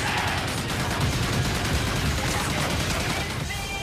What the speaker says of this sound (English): So it looks like he has sort of a minigun death machine sort of thing.